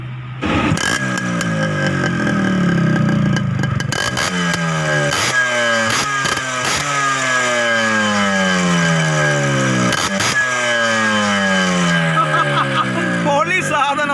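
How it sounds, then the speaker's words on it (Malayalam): A Yamaha RX100 motorcycle is kicked into life and runs loudly nearby, its two-stroke engine idling with a rough, buzzing rhythm and rising and falling with repeated blips of the throttle across the whole stretch. "ഇതൊന്ന് സ്റ്റാർട്ട് ചെയ്തേ. ഇതിൻ്റെ പെർഫോമൻസ് സൗണ്ട് കേട്ടാൽ തന്നെ വളരെ നല്ല സൗണ്ടാണ് ഇതിൻ്റെ"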